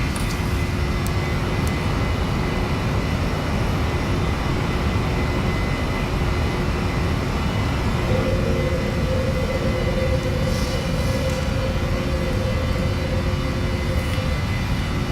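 Steady, loud roar of PMDG 737 NGX jet engines at takeoff in a flight simulator, a broad continuous rumble with a thin tone entering partway through, with no talk over it.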